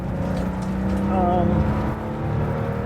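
A restored 1975 Porsche 911 Carrera with short gearing is driven and shifted through its gears; a loud, steady engine drone rises and dips as the gear changes, with some talking inside the car.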